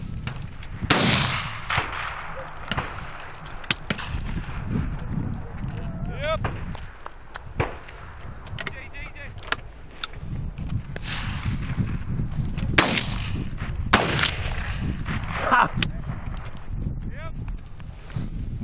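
Several sharp shotgun blasts crack out at irregular intervals outdoors during a hare hunt in Poland, some close and loud, with people talking and rustling movement in between.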